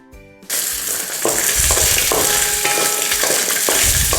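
Garlic drops into hot oil where dried red chillies are frying, and after a quiet start the sizzle jumps sharply, then grows into a loud, crackling hiss with stirring clatter.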